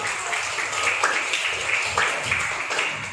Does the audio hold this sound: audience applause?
yes